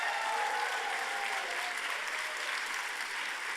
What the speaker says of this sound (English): To warm applause in the auditorium.